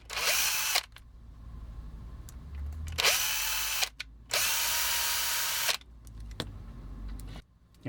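A power drill bores a hole in the wing of a Transformers G1 Starscream toy, whining in three long, loud bursts with brief pauses and short stops between them.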